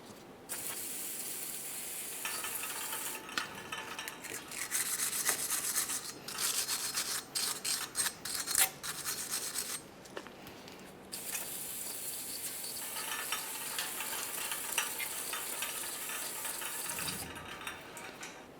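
Scrubbing and rubbing on the bare front wheel hub of a 2009-2010 Pontiac Vibe with the brake rotor removed, a steady close abrasive scraping in long bursts with brief pauses, no talking.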